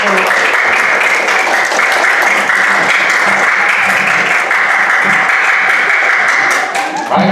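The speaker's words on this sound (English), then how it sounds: "can we give a round of applause, a hand for our parents" Camp attendees give a loud, sustained round of clapping for their parents, dense and close, with voices faintly underneath before it thins out near the end.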